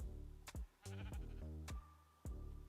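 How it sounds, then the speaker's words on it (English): Sheep bleating in Minecraft during a modded horror playthrough: several short, wavering bleats in quick succession, close and clear over a quiet background. "I heard a sheep."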